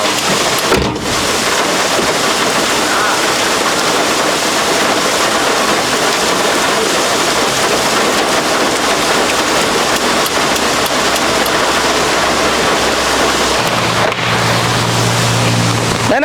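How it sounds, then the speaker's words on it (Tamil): Heavy rain pours steadily at a roadside food service for sadhus in Tiruvannamalai, a dense loud hiss throughout with a brief low rumble near the end. "மழை வருது."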